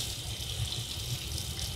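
Water runs steadily from a tap as a laser-etched white tile is rinsed off, a constant hissing splash at moderate distance with no talking.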